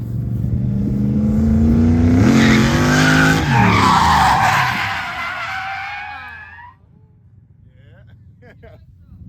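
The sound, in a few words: car drifting into corner, tires skidding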